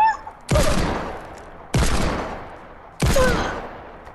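Three loud, separate gunshot blasts in the Fortnite video game, each spaced a little over a second apart and decaying into a long echoing tail.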